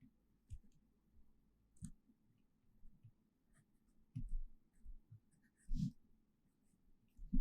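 Pen strokes write out a 10th-grade Urdu-medium math lesson on angles, with scratchy marks coming in short irregular bursts and pauses, close and fairly soft, with no voice over them.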